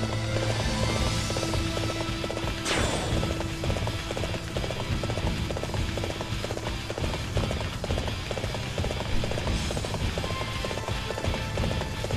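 Galloping horse hooves in the video game Dynasty Warriors 7, a steady rapid clip-clop rhythm running throughout over a busy battlefield din, with no talk.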